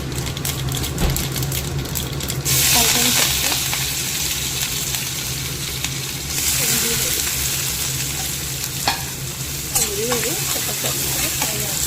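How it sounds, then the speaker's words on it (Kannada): Mustard seeds tossed into hot oil in a kadai sizzle loudly, starting with a sharp burst of spitting and crackling that surges again midway, with faint stirring scrapes and a voice briefly in the background. "ಹಾಕಿದ್ದೀನಿ ಕಡಾಯಿಗೆ ಇವಾಗ ಸಾಸಿವೆ ಹಾಕ್ತಾಯಿದ್ದೀನಿ"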